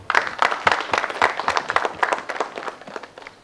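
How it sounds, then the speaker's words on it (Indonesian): A studio audience at a children's speech competition show claps vigorously in a dense, uneven burst that tapers off toward the end. "tepuk tangan dulu untuk Rapan ya"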